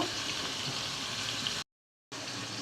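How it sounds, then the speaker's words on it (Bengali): Fish lightly frying in a pan of hot oil for a home-cooked Bangladeshi meal, a steady close sizzle that cuts out briefly to silence and then resumes. "মাছটা হালকা ভেজে নেব।"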